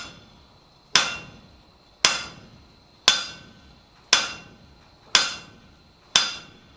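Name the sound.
hammer striking metal on anvil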